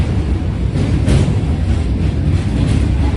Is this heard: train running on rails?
yes